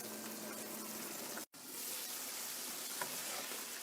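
Chicken jalfrezi sizzling in a pan, a steady soft hiss of frying that cuts out briefly partway through and then resumes, close and quiet with no voices.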